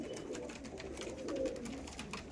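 Saharanpuri Kaldom pigeons cooing softly in a loft, a faint low murmur of repeated coos with a slight swell in the middle, no voices present.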